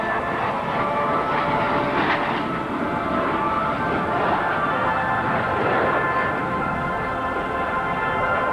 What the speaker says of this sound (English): From our right, the F-117A Stealth Fighter.